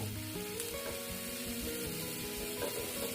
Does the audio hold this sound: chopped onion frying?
yes